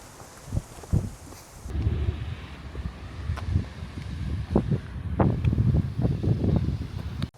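Gusty coastal wind buffets the microphone outdoors, with low rumbling bursts rising and falling over a faint background hiss.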